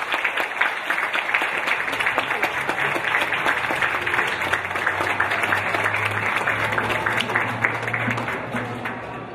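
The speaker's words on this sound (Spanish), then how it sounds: "a quien pido un gran aplauso a este grupo" Audience at a cultural centre event in Apaseo el Grande gives a music group loud sustained applause, with dense clapping and crowd noise, plus a low hum beneath.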